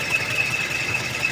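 A Toyota Kijang's carbureted engine idles steadily, a continuous low rumble with a faint high whine, with no talking over it.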